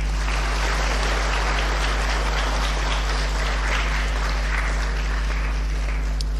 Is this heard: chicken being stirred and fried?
no